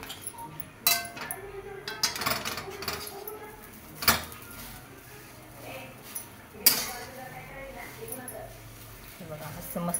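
Vegetables mixed in a pan with a metal utensil, scattered clinks and scrapes, a few sharp knocks, heard under someone talking.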